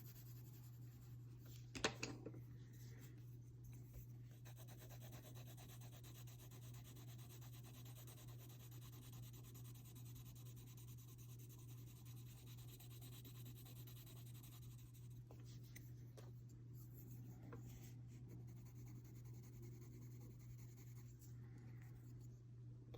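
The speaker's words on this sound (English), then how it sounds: "I like to hold the pencil down like this because it can be easier to shade." Colored pencil shades across paper in a quiet, steady scratchy rub with a small knock near the start, held close and faint over a low background hum.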